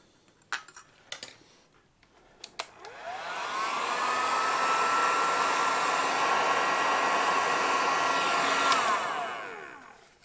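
A heat gun shrinking heat shrink tubing over soldered P90 guitar pickup wires, a steady airy blowing roar that rises and holds for several seconds after a few light clinks and taps.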